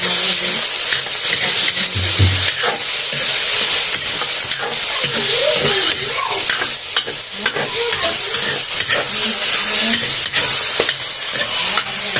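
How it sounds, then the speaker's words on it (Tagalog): Chicken fries in a pan with a loud, continuous sizzle and hiss, with occasional stirring clinks and faint background voices. "Chicken for fried chicken."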